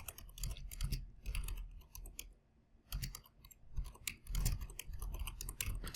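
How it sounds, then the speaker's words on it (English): Computer keyboard typing during a Minecraft server session: dense, faint clicking keystrokes in bursts with brief lulls, close to the mic and with no talking. "I'm sorry I've been typing a lot this episode"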